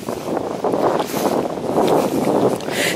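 Wind blows hard outdoors on a hillside walk along the West Coleridge Way, a continuous loud rushing buffet across the microphone with gusty swells and no voices.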